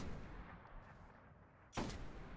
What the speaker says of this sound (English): That's definitely a sniper.